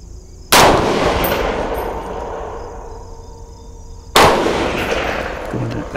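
Two sharp, loud gunshots from a convertible Colt 901 rifle in .308 or 5.56, spaced about three and a half seconds apart, each cracking sharply and then trailing off into a long, ringing outdoor echo.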